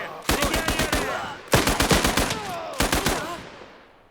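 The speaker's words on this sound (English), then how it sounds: "they're about to meet our twin machine gunners." Twin machine guns rattle in the video game Last Train Home, firing three sharp, loud bursts of rapid rounds with short pauses between them. The last burst trails off into an echoing fade.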